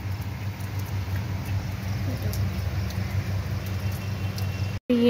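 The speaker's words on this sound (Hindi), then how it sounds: "अभी तो पूरा बारिश चल रहा है" Heavy rain pattering steadily outdoors during a train journey, a dense continuous wash of sound with a low hum underneath, cut off briefly near the end.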